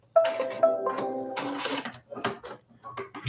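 A sewing machine runs in a brief whirring burst with a few tonal mechanical notes, then quieter clicks and handling sounds follow at close range.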